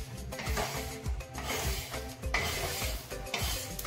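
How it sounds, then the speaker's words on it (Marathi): Roasted sesame seeds being scraped and transferred onto a plate, heard as close, continuous rubbing and rasping with a spoon on metal and soft clinks in an uneven rhythm. "हे आपण आता एका प्लेटमध्ये काढून घेऊयात."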